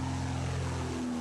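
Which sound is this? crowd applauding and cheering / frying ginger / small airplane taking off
small airplane taking off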